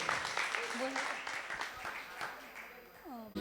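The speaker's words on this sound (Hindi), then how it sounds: "एक बार ताली बजा लें" Clapping from a gathering at a Jain religious festival in India, a bright spread of many hands under sung or spoken voices and tonal sounds, continuing at a fairly even level before ending abruptly.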